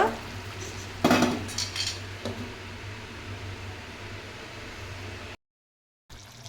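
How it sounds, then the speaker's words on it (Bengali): A metal lid is set onto a pot of chicken kosha with a single close clatter, followed by a softer knock, over a steady kitchen hiss. No one speaks. "এবার আমি ঢাকা দেব"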